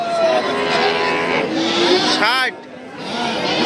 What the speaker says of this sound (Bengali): হলস্টিয়ান ফ্রিজিয়ান বাছুর দেখতে পাচ্ছেন